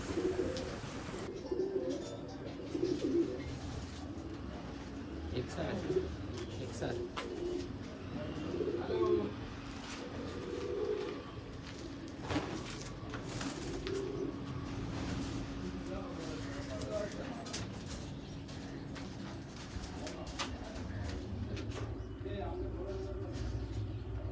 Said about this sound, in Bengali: দেখো এসব যা পায়রা দেখাচ্ছি, এগুলো সব তপন সাহা ব্লাড লাইনের পায়রা